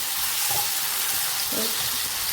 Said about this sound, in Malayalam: ഇനി നമുക്ക് തക്കാളി ഇട്ട് കൊടുക്കാം നന്നായിട്ട് ഇളക്കി കൊടുക്കാം